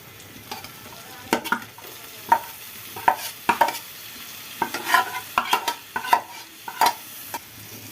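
Marinated soybean chunks fry in a pan while a utensil stirs and scrapes them, sharp clattering strokes recurring irregularly over a soft steady sizzle, close and clear with no voices.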